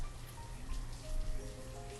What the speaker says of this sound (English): I really like the rain and snow effects.